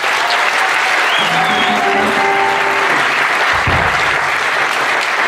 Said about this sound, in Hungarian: Egy külön tapsot kérünk nekik.